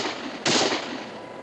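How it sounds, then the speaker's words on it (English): A single sharp gunshot fires from a frontier garrison in the television western Daniel Boone, a brief crack with a fading tail against outdoor background noise. "Those shots are coming from the garrison, all right, but they're not shooting at us."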